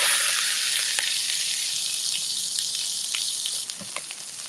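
Onions and vegetables fry in a hot wok for chicken lo mein, a loud, bright sizzle that fades slightly over a few seconds, with small crackles and taps of the utensil.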